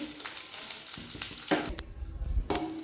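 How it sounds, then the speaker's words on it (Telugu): Curry leaves crackle and sizzle quietly in a pan, broken by a few sharper pops and scraping stir sounds. "కొంచెం బాగా వేగింది కరివేపాకు"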